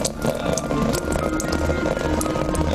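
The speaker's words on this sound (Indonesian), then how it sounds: "suara tetesan air hujan" Foley raindrop sound effect: steady patter of dripping raindrops with scattered sharp taps over a dense rushing wash, continuous and fairly loud.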